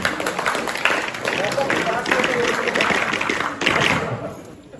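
An audience at a fire protection training opening ceremony applauds as two senior fire officers are introduced. Dense, close clapping mixed with cheers carries on throughout and tapers off at the end.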